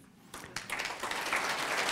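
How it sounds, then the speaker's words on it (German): After a talk on dementia, an audience breaks into applause that begins abruptly and swells into steady, fairly distant clapping from a crowd. "Applaus"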